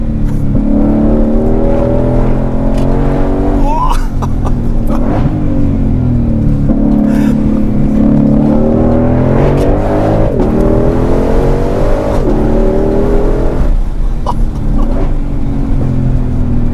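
A Ford Shelby GT500 engine roars loud and close at a car festival, revving repeatedly with rising and falling pitch as it accelerates, its steady growl filling the whole stretch.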